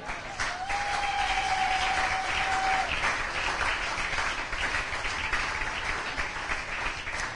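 Church congregation applauding during a French-language sermon, a steady wash of many hands clapping that fills the whole stretch, with a brief high whistle or tone riding over it early on.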